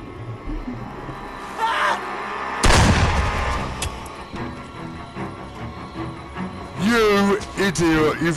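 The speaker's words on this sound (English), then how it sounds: "You've just wasted your one gunshot." A loud gunshot from the horror video game Friday the 13th: The Game booms once amid dark in-game ambience, with a voice speaking over the action.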